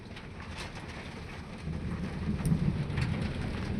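Heavy rain pours steadily at an open-cast coal mine, a dense, constant hiss with low rumbling underneath that swells louder midway through, with no voices.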